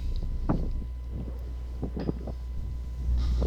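Wind gusts buffet the microphone on an outdoor disc golf course, making a low rumbling roar with scattered soft thumps throughout and a stronger gust at the end.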